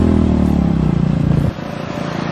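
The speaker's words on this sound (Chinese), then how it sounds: "打上摩托车喽！" A motorcycle ride through the streets of Istanbul, Turkey, with the engine droning loud and close in a steady pulsing rumble. The pitch slides down and the engine note drops sharply as the bike eases off, with no voices.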